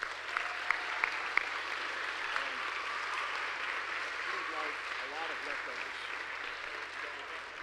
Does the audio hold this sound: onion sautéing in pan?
no